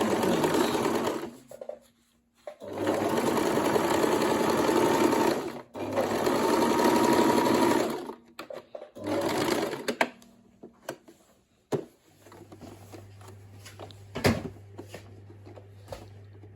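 A sewing machine stitches a sleeve onto a circle dress in several loud, close bursts of rapid running, separated by pauses. Softer intermittent clicks and a low hum come toward the end.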